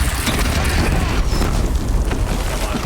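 Mortar explosions in Horizon Zero Dawn, a dense rumbling boom with heavy low-end roar and crackling debris, loud and sustained across the clip.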